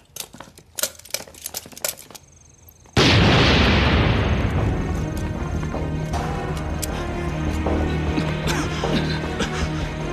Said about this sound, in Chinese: 四楼爆炸了！